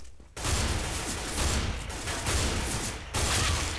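Rapid bursts of first-person shooter gunfire crackle loud and close, starting abruptly after a brief quiet and running continuously with a short dip near the end.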